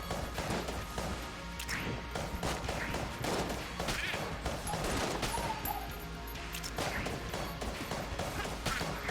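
Continuous shooting in the video game Enter the Gungeon, with a steady stream of small, sharp blasts and crashes that is dense and moderately loud throughout, with no voice.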